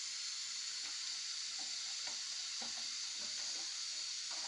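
Sesame oil heats in a pan, giving a faint, steady sizzle with soft crackles and small pops scattered throughout, close and quiet, with no talking.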